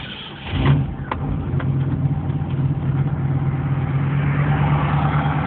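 Camaro engine starting cold with a brief crank, catching and settling into a steady, fairly loud idle heard up close.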